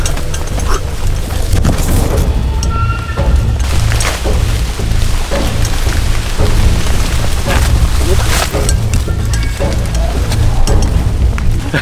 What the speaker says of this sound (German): Dass es auch noch anfängt zu regnen wieder